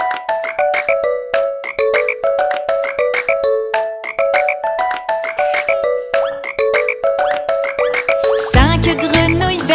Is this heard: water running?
no